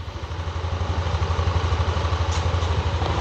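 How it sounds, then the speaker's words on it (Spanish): A Yamaha Nmax 125 scooter engine idles steadily close by after starting, a low rhythmic pulsing throb with light mechanical clatter, no talking. "Vamos a arrancar un momentito la moto."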